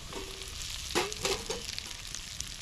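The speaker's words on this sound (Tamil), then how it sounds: "கடுகு நல்லா பொரிஞ்சிருச்சு" Mustard seeds sizzling and popping in hot oil, a steady fry with a few sharper crackles and pops, fairly quiet.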